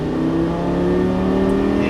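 Lamborghini Gallardo LP550 accelerating hard on a racetrack, its engine note a steady, loud drone with strong harmonics that climb slowly through the run, close up from inside the car.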